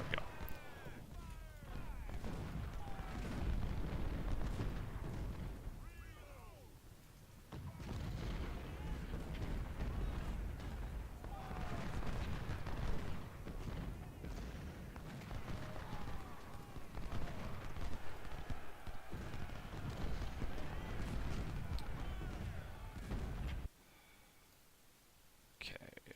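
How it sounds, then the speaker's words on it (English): Artillery booms in a Civil War strategy game set at the Battle of Stones River, heavy rumbling fire rolling on almost without pause under other battlefield noise, then cutting out near the end. "I'm gonna keep taking artillery fire until I get rid of it"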